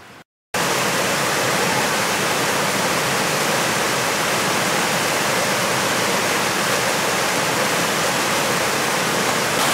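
A stream on the Hoegne flows over rocks in a steady, loud, unbroken rush of water that starts abruptly after a brief moment of silence and continues without any voices.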